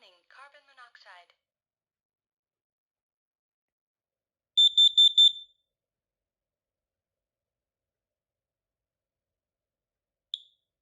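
A Kidde Nighthawk KN-COSMXTR-B smoke and carbon monoxide alarm emits a quick burst of about four shrill, loud beeps and then one brief chirp, following a short electronic voice announcement in an otherwise silent room.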